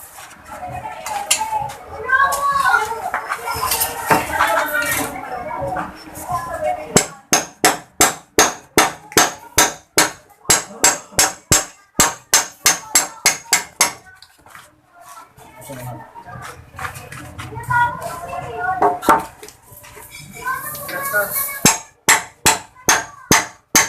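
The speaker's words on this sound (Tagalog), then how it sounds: "ito yung martilyo po" Sharp hammer blows ring out in quick, even runs of strikes, pausing while people talk, then resuming near the end.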